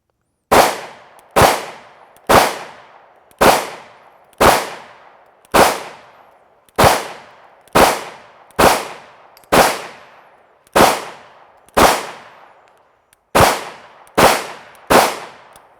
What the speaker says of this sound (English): there's 15 rounds through the P320